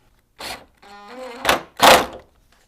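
The door of a fifth-generation Toyota 4Runner fitted with fiberglass fenders is opened and shut, a creak and latch clicks followed by two solid close thunks, one after the other.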